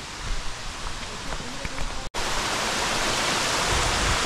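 Steady broadband rush of a waterfall along a forest footpath on the Bhimashankar trek, loud and continuous, briefly cut off before resuming at full strength.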